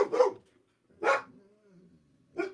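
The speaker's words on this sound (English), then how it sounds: "Oh, there's another dog?" A dog barks in three separate outbursts spaced about a second apart, close and fairly loud, with short pauses of near silence between them.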